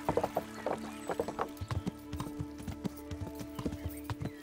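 Horse hooves clip-clop at a steady galloping rhythm in the medieval game Kingdom Come, close and loud, with a brief neigh near the start and game music beneath.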